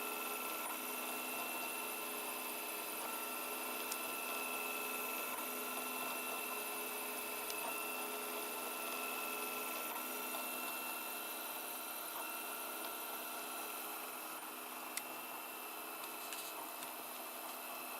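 A 3D printer partway through a long print, giving a continuous whirring, buzzing machine drone with steady tones and faint clicks, unchanging for the whole stretch with no voices.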